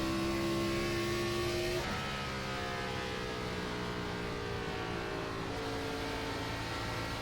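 NASCAR Gen 4 stock car in iRacing at The Rock oval, engine droning loud and steady with harmonic whine shifting pitch as it accelerates, a brief drop near two seconds, then continued sustained engine roar.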